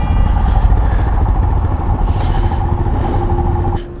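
Royal Enfield Himalayan motorcycles running close by at a border inspection point, a loud, steady rumbling engine drone with some clatter, dropping away abruptly near the end.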